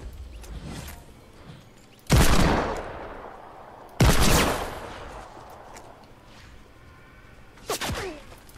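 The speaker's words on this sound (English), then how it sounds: "Well, shooting." Three sharp, loud gunshots ring out in a shooting video game, spaced about two seconds apart, each trailing off into a short decaying tail over a faint background hum.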